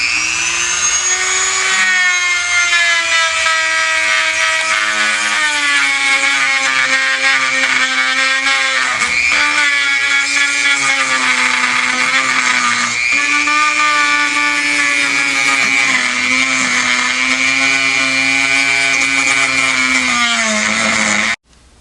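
A high-speed rotary tool with an abrasive polishes the inside surfaces of a 1953–1962 Corvette steering gearbox, a loud, close, continuous whine with slight pitch wavering lasting about twenty seconds before cutting off abruptly.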